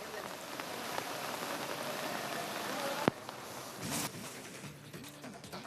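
Heavy monsoon rain falls in Karwar on coastal Karnataka amid flooding, a dense, steady patter on surfaces throughout, with faint voices in the background toward the end.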